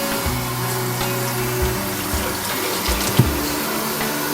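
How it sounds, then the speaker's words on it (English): Water trickles and drips steadily as excess water is squeezed out of a damp towel during an Air Jordan 1 sneaker restoration, a close, continuous wet splashing with no talk. "Squeeze off any excess water."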